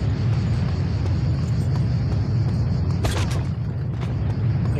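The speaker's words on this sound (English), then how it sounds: "Oh, it's a waterfall." A deep, continuous rumble of a waterfall in the game Just Cause 2 fills the scene, loud and steady, with a brief brighter whooshing burst partway through.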